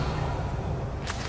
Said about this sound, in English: Revelio.